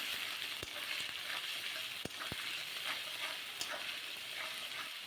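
Spice paste with tomato fries for a chicken dish in a soft, continuous background sizzle, with a few sharp clicks and scrapes of stirring scattered through it and no voices.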